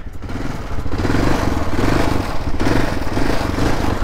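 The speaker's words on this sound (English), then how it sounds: "Turn on the bike, it's just ignition on and press start." A 1991 Suzuki DR 650 motorcycle engine fires up and settles into a loud, close, lumpy single-cylinder idle with a mechanical clatter.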